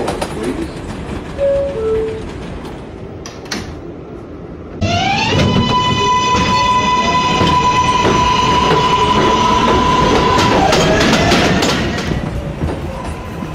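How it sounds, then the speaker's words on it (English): A New York City subway 7 local train bound for Flushing–Main Street runs with a loud rumble and rhythmic clatter, joined by a long rising whine and tonal motor hum after a quieter opening with faint birds. "This is a Flushing Main Street bound 7 local train."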